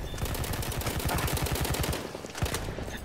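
Rapid automatic gunfire from the Battlefield 1 video game, a dense burst of rattling shots running continuously for about two seconds, then a brief pause and a few more loud shots, with no talk.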